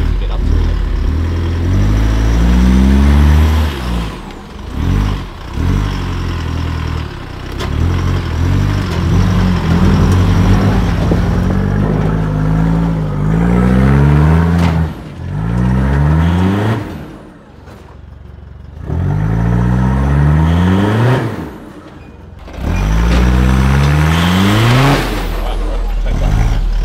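A 4WD engine revs hard in repeated surges on a wet forest track, loud and close, with the climbing and falling pitch of gear changes. Occasional speech is heard between the bursts.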